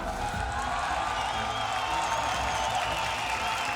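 A home crowd in an arena at the ESL One Katowice 2019 Dota 2 grand final keeps up a steady, dense roar of cheering and applause. The sound is fairly distant and has no clear breaks.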